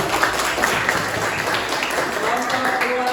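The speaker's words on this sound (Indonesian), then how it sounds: "beri tepuk tangan untuk kelompok 2" A crowd applauds steadily, a dense wash of clapping from many hands, with faint voices mixed in.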